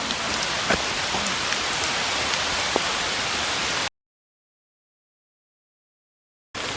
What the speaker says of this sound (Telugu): ఒకవైపు అయితే జోరుగా అయితే వర్షం పడుతుంది